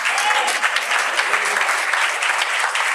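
A church congregation claps loudly and steadily during a Spanish-language sermon, a dense, continuous burst of many hands filling the space without a break.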